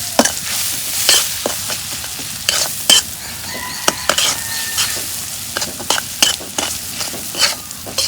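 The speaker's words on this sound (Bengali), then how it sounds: "জিরার ফাঁকি, মশলাগুলো তেলের মধ্যে ভাইজা নেব।" Cumin and spices frying in hot oil in a pan for a fried rice dish made from leftover rice, with a steady close sizzle broken by frequent sharp scrapes and clatters of stirring.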